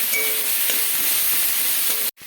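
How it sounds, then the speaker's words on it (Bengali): Turmeric, chilli, cumin and coriander powder masala fries in a pan for a Bengali cabbage ghonto, a loud continuous sizzle broken by rhythmic scraping stirs, stopping abruptly near the end before resuming. "মশলাটাকে নাড়িয়ে ভালো করে কষিয়ে নেবো"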